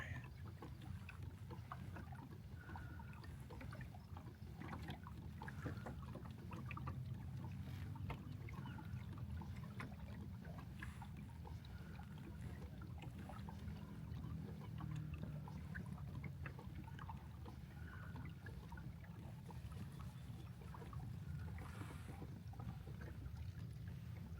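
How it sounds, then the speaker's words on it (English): A kayak paddles quietly across Horsetooth Reservoir, with soft continuous water swish and faint lapping under light wind noise, low in level throughout. "This kayak's nice and quiet."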